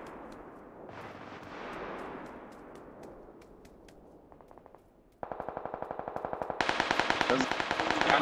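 Gunfire in the battle-royale game PUBG: a few scattered shots at first, then dense, rapid automatic bursts that grow steadily louder and closer toward the end, with no talking.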